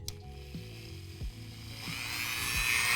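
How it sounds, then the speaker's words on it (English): A drill bores a new hole for a stripped pin, whining with a rising pitch and a few brief bites and slowdowns over steady motor hum, close and fairly loud. "I'm going to drill a new one."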